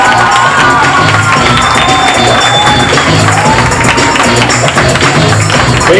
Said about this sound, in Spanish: vamos a recibir con un fuerte aplauso a Otto Ortiz.